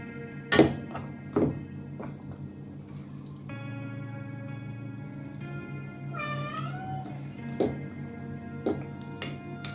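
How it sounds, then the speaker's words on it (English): A cat meows several times in a kitchen while mutton curry cooks. The calls are fairly faint over a steady background hum, with occasional thumps and clicks mixed in. "just when we're busy with stuff, then he comes in meowing"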